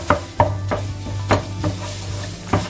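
Minced pork sizzles as it goes into a hot frying pan and gets stirred, with steady frying and repeated scraping strokes close up and loud, and no talking.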